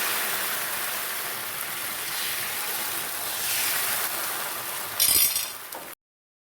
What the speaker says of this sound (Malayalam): മാവ് ഒഴിച്ച് കൊടുക്കാം.